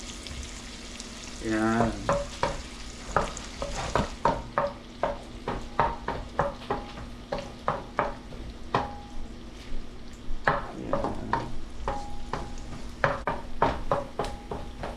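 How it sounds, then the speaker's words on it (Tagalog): Garlic sautés in a hot pan for a pechay stir-fry, giving a steady crackling sizzle under a brisk, regular run of spoon taps and scrapes against the pan, close by, with a brief spoken word. "Ngayon, sa kanan natin lagay yung ating bawang."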